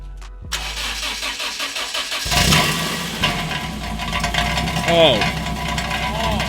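A 1995 BMW E36 318is engine cranks and starts, then settles into a close, steady idle with a metallic rattle running through it, while people talk nearby.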